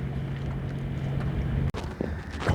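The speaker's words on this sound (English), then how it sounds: "It's got the engine on now, heading over towards the marina" A sailboat's engine motoring into Rodney Bay Marina, St Lucia, gives a steady low drone mixed with wind rush. It breaks off abruptly partway through, then returns amid scattered knocks.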